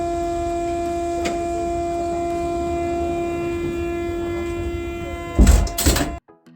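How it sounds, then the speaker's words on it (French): A TGV high-speed train arriving at the station: a steady rail hum with sustained tonal whine, then a louder burst of rumble and clatter near the end before it drops away. "le train arrive et je pars pour Paris."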